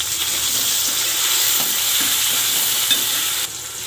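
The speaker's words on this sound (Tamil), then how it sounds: "இது எல்லாத்தையும் நல்லா வதக்கிடுங்க." Shallots, tomato and garlic sizzle and fry in a hot pan as they are stirred for a tamarind curry with fresh turkey berries. A steady close crackling hiss continues throughout, with faint stirring scrapes and no talk.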